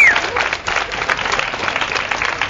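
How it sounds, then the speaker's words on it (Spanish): Audience at a talk on domestic violence breaking into steady applause, a dense wash of many hands clapping at moderate volume throughout, with a voice faintly audible underneath. "Un aplauso, por favor."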